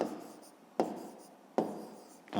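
A pen scratches across paper while numbers are written out by hand for a fifth-grade math exercise, in three strokes that each start sharply and then trail off, quiet and close.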